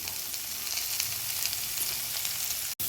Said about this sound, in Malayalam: ഇവിടെ നമ്മുടെ ഉള്ളി ഫ്രൈ ആയിട്ടുണ്ട്.